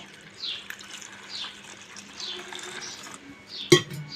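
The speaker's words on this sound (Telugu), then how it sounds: "వాటర్ పోసి మనం కడిగి నీళ్ళు ఉంచుకోవాలి." Water poured over two cups of thick poha flakes in a strainer to wash them, a faint, steady splashing trickle with one sharper knock near the end.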